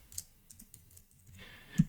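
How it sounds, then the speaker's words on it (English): Sparse keystrokes on a computer keyboard tap out an address in short, irregular clicks, close and quiet, ending with a firmer key press. "I will type the inside IP address of this firewall"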